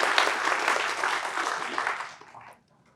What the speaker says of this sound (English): let's give a round of applause to our speakers